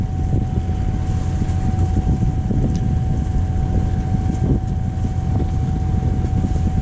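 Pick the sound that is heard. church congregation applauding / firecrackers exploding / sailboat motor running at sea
sailboat motor running at sea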